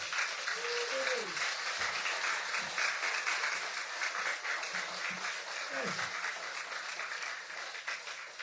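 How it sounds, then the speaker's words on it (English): A small audience applauds competition runners-up at a literary event, a modest steady patter of clapping with a few brief voices in the background. "round of applause for the runners-up, please."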